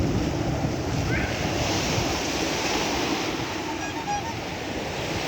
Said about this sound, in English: you see in the distance some breaking waves